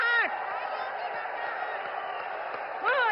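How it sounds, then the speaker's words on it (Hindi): Crowd at a 2024 Lok Sabha election rally for PM Modi in Betul, Madhya Pradesh, cheering and clapping in a loud, steady, continuous roar with occasional whoops rising at the start and end. "तालियों की गड़गड़ाहट"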